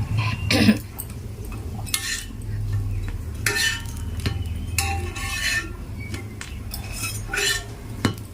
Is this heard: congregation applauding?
no